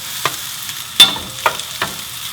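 Carrot and cucumber stir-fry in a little oil with a steady low sizzle, broken by a few sharp scrapes and taps of a utensil stirring the pan close by.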